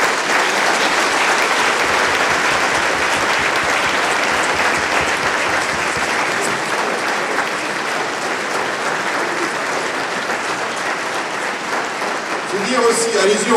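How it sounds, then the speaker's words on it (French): Sustained, dense applause from an audience at a town mayor's New Year address in Saint-Maur, Indre, honouring a young athlete, steady and loud for the whole stretch before thinning slightly at the end. "je voudrais qu'on puisse lui faire un tonnerre d'applaudissements"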